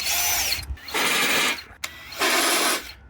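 A power drill bores through holes in a ute canopy in three loud, close bursts of high whining bit noise separated by brief pauses.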